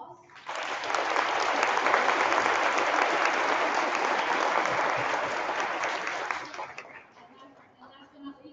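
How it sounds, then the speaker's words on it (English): An audience at a third-grade chorus concert claps steadily for several seconds, then the applause tapers off and fades to quiet. "please give them a round of applause"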